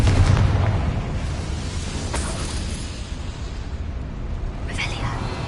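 A Confringo blasting spell explodes in the Hogwarts Legacy video game: a few sharp booming bursts over a steady rumbling game background, with quiet voices underneath.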